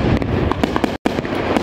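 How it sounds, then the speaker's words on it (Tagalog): New Year's Eve fireworks in Poland crackle and bang in rapid overlapping bursts, a dense continuous barrage of distant and nearby explosions with only a momentary gap. "marami rin po ang nagpaputok fireworks"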